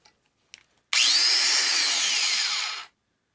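A Milwaukee M12 FUEL 1/2 x 18 inch cordless bandfile runs for about two seconds while cleaning up a 3/8 inch side of a workpiece, giving a loud, steady, high whine with a gritty belt rasp. Brief clicks come before it starts.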